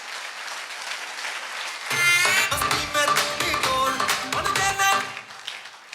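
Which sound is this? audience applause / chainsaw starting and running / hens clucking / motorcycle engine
audience applause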